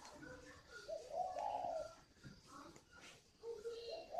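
Spotted dove cooing in a breeding coop, a male near the nest where a hen is brooding; soft repeated low coos come in short phrases, close by, with faint background voices and shuffling.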